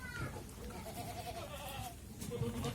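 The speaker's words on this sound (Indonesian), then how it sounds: "Kita muter-muter sini masih kambing-kambingnya ini" Boer goats bleating in a crowded pen for sacrificial animals, several wavering bleats at a moderate distance over steady background crowd noise and murmured talk.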